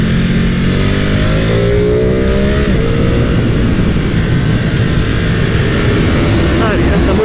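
A 2022 Ducati Streetfighter V2 motorcycle engine roars loud and close under acceleration, with rising revs broken by quick-shifter gear changes through the anti-dribble clutch, and wind rush throughout.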